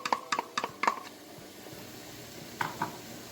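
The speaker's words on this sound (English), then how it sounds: "Now we're going to add our onions. And cook down real well." Onions going into a pan on the stove bring a quick run of sharp clinks and scraping knocks, then a short pause and two more clinks over a faint low hiss.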